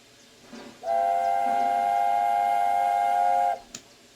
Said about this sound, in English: So let's have a listen to see how much better the whistle is.